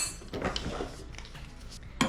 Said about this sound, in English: I'm just going to do a teaspoon of vanilla extract